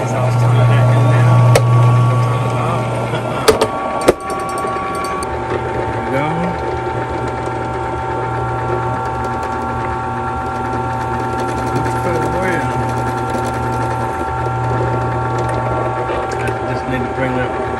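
A drill switched on and left spinning, a steady mechanical whir with a low hum running throughout, close and fairly loud, with a few sharp knocks early on and someone talking over it.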